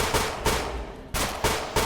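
Loud, close bursts of automatic gunfire in a Roblox game, several sharp volleys in quick succession with short pauses between them.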